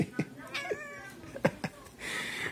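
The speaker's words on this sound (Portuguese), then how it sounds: "a minha gatinha tá complicada aqui, João" A pet kitten meows repeatedly indoors, with several short rising and falling cries close by, ending in a drawn-out whiny yowl.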